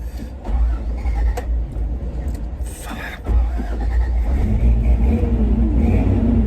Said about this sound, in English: So we're going to try starting it up again.